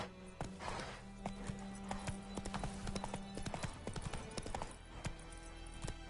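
Hooves of Roach, a horse in a video game, clip-clop steadily at close range over a low ambient bed, with a faint neigh and a rider's voice briefly heard.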